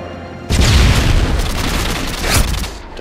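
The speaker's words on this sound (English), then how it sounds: "Grenade!" A grenade explodes in a first-person shooter video game: a sudden loud boom that rolls on with a long rumbling tail and no talk.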